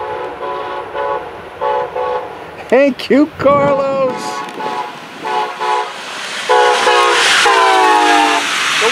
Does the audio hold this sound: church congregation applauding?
no